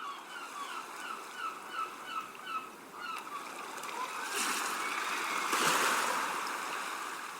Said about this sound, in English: I can hear waves gently crashing and birds calling.